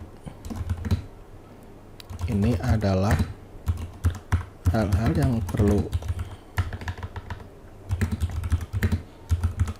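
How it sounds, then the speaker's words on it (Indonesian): Steady clicking of computer keyboard keys runs throughout while typing in Microsoft Word, as a person speaks briefly in Indonesian over the typing. "Di sini saya akan coba mengetik"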